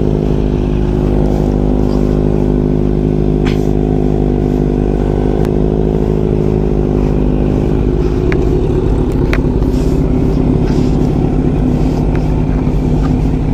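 A Kawasaki Z900 motorcycle engine runs steadily and loudly up close, a continuous deep exhaust drone with faint clattering, the engine note shifting slightly partway through.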